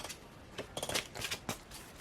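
A deck of tarot cards is shuffled close up, giving soft rustling and a few crisp flicks and slaps of card stock over about two seconds in a quiet room.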